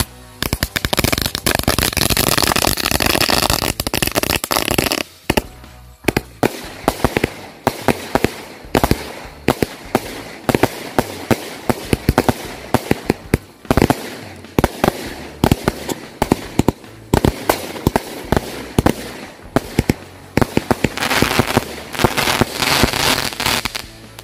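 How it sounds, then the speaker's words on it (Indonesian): Roman candle fireworks firing a 45-shot sequence at night, a rapid string of sharp, loud pops and cracks with a brief pause partway through before the volley resumes, ending in a dense crackling burst. "Selanjutnya malam ini kita nyalakan mercon Roman Candle yang udah kita susun seperti ini."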